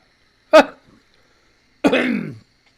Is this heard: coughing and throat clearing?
yes